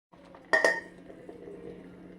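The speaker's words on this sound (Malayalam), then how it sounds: "ഈ സമയത്ത് നമ്മളിത് അടച്ച് വെക്കണം" A lid is set on a pot of boiling herbal hair mask with a single sharp metallic clink, followed by a quiet, low bubbling simmer with no voices.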